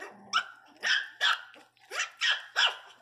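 Miniature pinscher puppies barking angrily over a bone, six sharp high-pitched yapping barks in quick irregular succession, close and loud in a quiet room.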